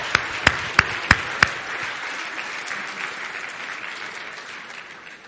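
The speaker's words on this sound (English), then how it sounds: "let's give him a big round of applause" A big round of applause at a managers' retreat, opening with five sharp, loud claps close by, then a dense crowd of clapping that gradually fades.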